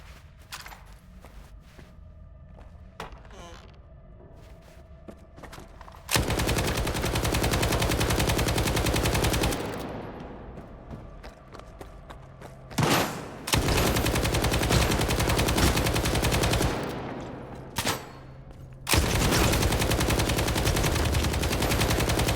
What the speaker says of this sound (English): Let's try the machine gun again.